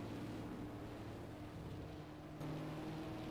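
A 1972 Formula 5000 racing car's engine runs in a racing video game at Brands Hatch as the car leaves the garage, a faint, steady low drone that swells slightly near the end.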